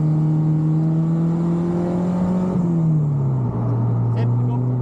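A Honda Ferio fitted with a K24 engine revs hard with a loud, steady droning whine that holds, then eases slightly lower toward the end, heard close by.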